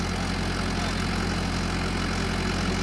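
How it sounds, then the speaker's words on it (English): A small tractor's engine idles steadily in a low, even rumble throughout, close and alone, on a farm on a sunny spring day. "There's his little tractor"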